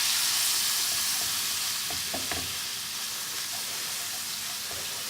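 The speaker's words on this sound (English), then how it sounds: "let's also add our lemon juice on top of that and give it a good stir" Kashmiri garlic prawns fry in a pan with lemon juice and curry powder, giving a steady, close hissing sizzle. A few soft scraping stirs sound near the middle.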